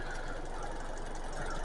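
A Kia K4's 2.0 Smart Stream MPI engine idles with a fast, steady valve-train ticking, heard up close and continuous with no talk over it.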